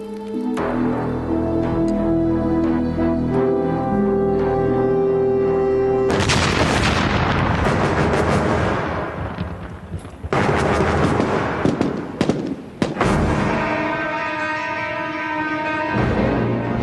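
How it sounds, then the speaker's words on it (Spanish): Buried landmines detonating in the desert, loud and sustained blasts with rumbling bursts that roll on and overlap, separated by short breaks, sounding close and heavy. "Sin saberlo, habíamos hecho estallar 2 de 8 minas enterradas en el desierto."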